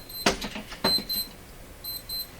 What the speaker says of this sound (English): which I cannot seem to stop the alarm from ringing on it